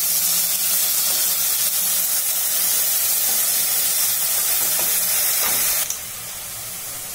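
Curry leaves hit hot oil in a pan and set off a loud, steady sizzling hiss with light crackles up close, which abruptly drops to a quieter sizzle near the end.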